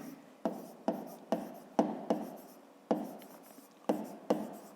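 Pen or pencil writing by hand on paper during a fifth-grade math exercise, a series of about nine short scratchy strokes in an uneven rhythm, close and quiet, with no talk.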